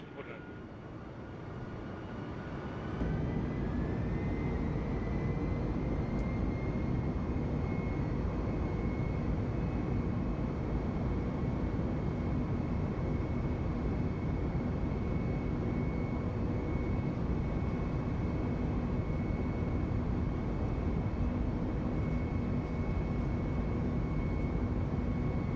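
An Airbus airliner takes off from runway 4 at LaGuardia, its jet engines rising after a few seconds into a loud, steady, sustained roar that continues to the end.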